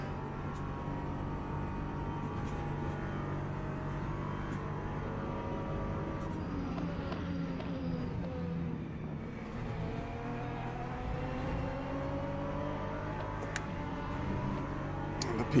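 An LMP2 prototype race car in a racing video game roars past with a steady engine drone and a rising then falling pitch sweep as it closes in and pulls away, loud and continuous throughout.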